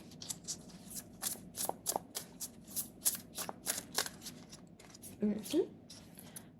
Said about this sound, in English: I do feel like reshuffling these cards.